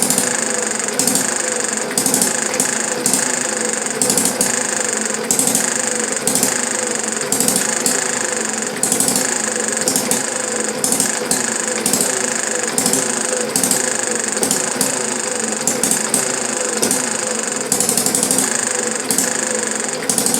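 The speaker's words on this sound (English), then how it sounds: "you could run a hit or miss engine like this and run a generator" A Banggood hit and miss mini engine runs steadily, a rapid repeating mechanical clatter with regular bursts of firing, loud and close throughout with no speech.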